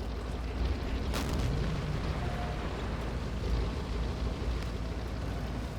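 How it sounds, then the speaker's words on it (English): Tanks firing at an Italian anti-tank gun in Combat Mission: Afrika Korps, with a sharp nearby cannon blast followed by a constant heavy rumble of battle noise. "We've got our tanks are firing away at them."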